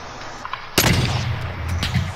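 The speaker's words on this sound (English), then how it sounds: "I'm even getting shot now!" Call of Duty Warzone gunfire begins suddenly after a quieter stretch with a sharp loud crack, followed by a continuing rattle of shots and scattered impacts at steady loudness.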